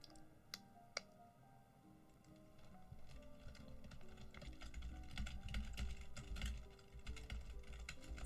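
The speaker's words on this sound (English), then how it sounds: "Instant typing sounds." Someone types on a computer keyboard nearby, quietly. A couple of isolated clicks come first, then a steady, denser patter of keystrokes over a low background hum.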